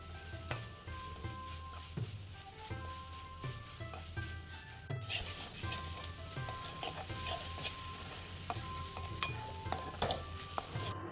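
Chicken curry masala frying steadily over a medium flame, with a continuous close sizzle and repeated scraping strokes of a spoon being stirred through the pan; no talking.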